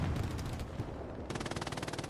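Machine gun fire in a multiplayer war game, a distant muffled exchange of shots giving way to a fast, steady burst of rattling rounds from the south, fairly faint.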